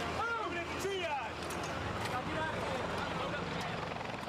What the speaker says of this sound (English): There's an aircraft coming.